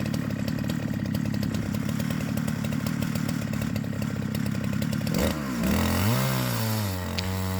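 Chainsaw milling live oak runs loud and steady under load through the cut, then the engine drops to a sputtering idle and revs back up with wavering pitch near the end.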